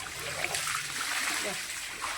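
Water tipped out of a bucket splashes and gushes briefly onto the ground outdoors, a short nearby burst of pouring and splatter.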